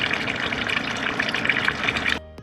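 Water pours steadily from a roadside fountain along the Portuguese Way of Saint James between Barcelos and Recoleta, a continuous close splashing gush that cuts off abruptly near the end.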